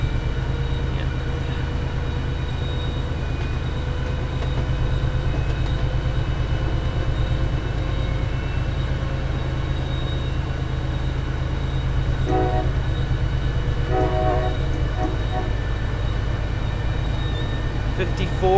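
MBTA HSP46 diesel locomotive in a train simulator game, running hard in notch 8 with a loud, steady engine drone and rail noise throughout, plus brief higher tones near the end.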